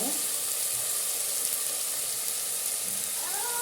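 Tomatoes sauté with salt in a pan for a squid kootu, giving a continuous bright sizzle throughout with faint bits of voice.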